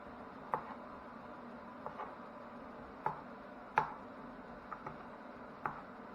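A knife chops potatoes on a cutting board in sparse, irregular single thuds, about seven cuts, close by and fairly quiet, with no speech.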